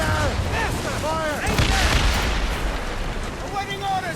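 Naval cannon fire in Assassin's Creed Rogue, a heavy continuous booming barrage at sea rolling under shouted voices and clamour throughout.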